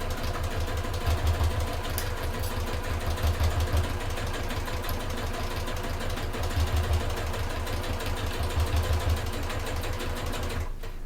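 A sewing machine runs in a steady, rapid mechanical rhythm while stitching a fold-over clutch bag, pulsing slightly in speed before cutting off near the end.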